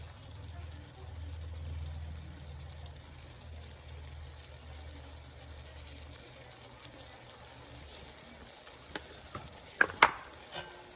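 Taco meat seasoned with smoked paprika sizzles quietly in a pan, a soft steady frying hiss with a few sharp clicks of utensils near the end.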